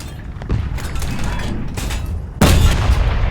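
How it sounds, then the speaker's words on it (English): A tank cannon fires in the video game War Thunder, with an IKV-103 in use: a softer thump early on, then a sharp, loud boom near the end over a constant rumbling engine background. "Lob that shell out."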